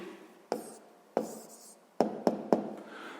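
A pen writing an answer by hand in a sixth-grade math exercise gives a few soft scratchy strokes and sharp taps on paper, spaced irregularly, close and quiet, with no talk.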